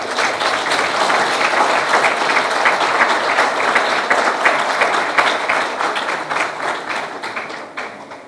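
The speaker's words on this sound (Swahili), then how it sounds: "hebu tupate makofi mengi kwa J-Root" Loud, sustained applause from a large crowd of club members and invited guests at a Simba club event, dense steady clapping that fades slightly near the end.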